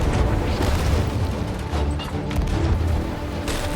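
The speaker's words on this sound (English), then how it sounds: "the enemy is matching her with every cannon fired" Ship cannons firing in the pirate video game Sea of Thieves during a naval battle: dense, rumbling booms and heavy blasts overlapping in a continuous barrage, loud and close, with no voices.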